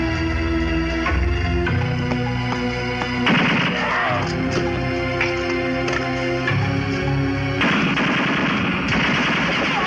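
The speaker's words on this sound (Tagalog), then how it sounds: "Nagmumula ang putok sa likod ng filing cabinet." Rapid automatic gunfire rattles through a film shootout, dense bursts of shots layered over a musical score, loud and continuous for about ten seconds with sharp crashing accents.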